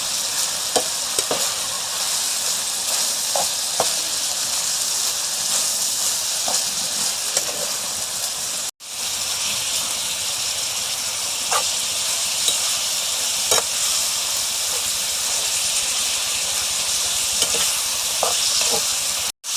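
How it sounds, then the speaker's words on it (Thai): Pork and kimchi stir-frying in a hot pan make a continuous loud sizzle, with occasional clicks and scrapes from stirring and a brief break partway through, no one talking. "ผัดจนกิมจิกับหมูเข้ากันนะครับ"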